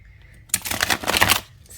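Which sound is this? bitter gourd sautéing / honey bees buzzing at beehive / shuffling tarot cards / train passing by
shuffling tarot cards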